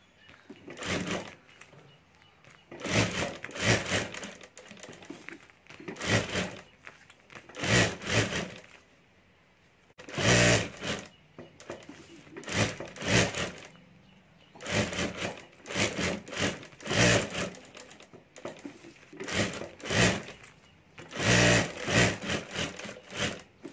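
A sewing machine stitches around the edges of a ladies' wallet lining in repeated short runs, each burst of rapid needle chatter broken by brief pauses as the fabric is turned.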